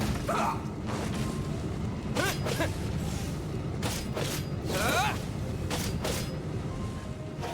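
A heavy door creaks and grinds open in the Genshin Impact video game, with several mechanical creaking bursts over a steady background of game music and ambience.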